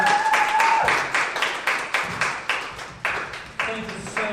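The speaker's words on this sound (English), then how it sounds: "Give the team a big round of applause for being here today." A convention panel audience at Supanova Gold claps for the team, with sparse, uneven bursts of hand claps that rise and fade in waves, fairly close, with a voice talking briefly at the start.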